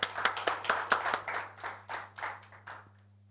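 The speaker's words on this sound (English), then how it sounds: "give yourself a round of applause for coming here" Audience clapping at a LinkedIn Local wellness talk in Thane, a small group's claps starting brisk and loud, then thinning into slower scattered claps that fade out.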